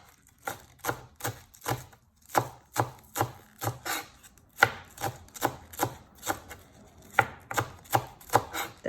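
A knife chops green onions on a cutting board in quick, even strokes, each cut a sharp close knock, keeping a steady rhythm of about two to three hits a second with no talking.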